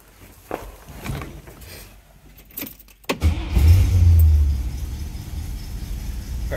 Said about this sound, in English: Car starts very easily